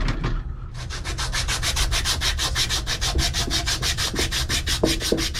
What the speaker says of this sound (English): Melt the solder off while it's hot. Excuse me, sand it off.